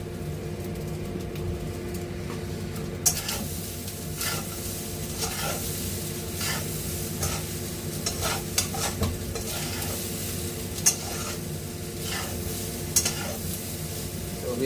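Rice for fried rice fries in a pan with a continuous close sizzle, and regular stirring scrapes and taps run through it. The background hum stays steady and no one speaks.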